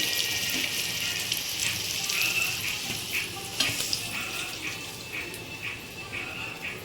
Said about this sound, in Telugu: ఇదిగోండి పొటాటో బైగాను వంకాయ ఇలా ఉడక వేయించుకోవాలండి